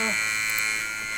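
Steady high-pitched electronic warning beep of a Thomas HDX2 New Jersey spec school bus, droning loud and close without a break.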